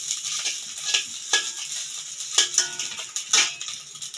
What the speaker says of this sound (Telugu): అల్లం పేస్ట్, చిన్నులపాయ పేస్ట్ అవి వేగిన తర్వాత